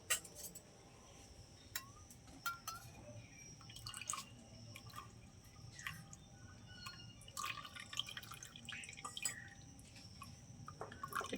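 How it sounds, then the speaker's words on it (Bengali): Lemon juice strained through a small tea strainer into water for homemade lemon soda, giving soft, irregular drips and trickles with faint clinks, close and quiet. "এবার যে লেবুর রসটা করে রেখেছিলাম ছেঁকে জলে দিয়ে দেবো।"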